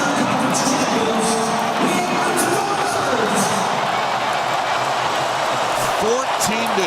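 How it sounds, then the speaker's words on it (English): A roaring arena crowd at an NHL playoff hockey game between the Dallas Stars and Edmonton Oilers creates a constant wash of cheering and noise, with a commentator's voice running faintly over it. "And listen to this crowd."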